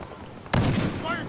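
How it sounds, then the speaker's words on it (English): Gunfire in Battlefield Hardline team deathmatch, a single sharp loud burst erupting after a quiet stretch and ringing out with noisy echo, with faint background game sounds and a voice underneath. "Doing all this shooting."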